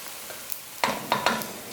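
Egusi ingredients sizzle in a hot pot as they are smoked, a steady faint frying hiss with a few louder crackling bursts near the end.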